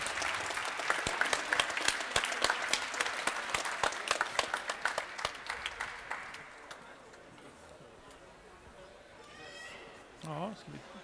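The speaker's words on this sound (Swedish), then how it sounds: "Applåd för Robert." Applause for a chef at a Swedish cooking competition in Gothenburg, a burst of quick clapping for several seconds that fades out, followed by quieter room sound and brief talk near the end.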